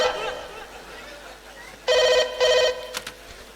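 A home landline telephone rings in two short electronic bursts with a brief pause between, followed by a faint click, after some quiet background murmur, during a stage play.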